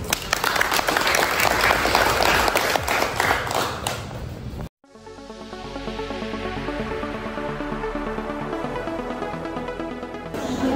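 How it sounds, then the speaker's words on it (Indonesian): Audience at a health center accreditation training event applauding, a dense wash of steady clapping for about four seconds, then a cut to a different, ringing tonal passage with little clapping evident. "Oke, kita tepuk tangan."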